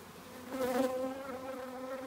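Honey bees buzzing around late-summer hives while requeening nucs, a steady close insect drone that swells briefly and then holds on alone.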